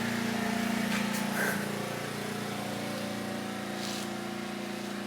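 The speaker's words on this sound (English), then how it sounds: "There goes the neighbor guy on his lawnmower." A neighbor's lawnmower engine drones steadily outside at moderate distance, a continuous low hum with a slight surge early on, with no one talking.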